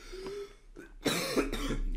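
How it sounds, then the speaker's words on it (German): A person coughs close to the microphone, giving a few harsh, throaty bursts with a throat-clearing quality in quick succession. "ich muss immer husten"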